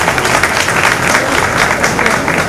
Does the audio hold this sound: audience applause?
yes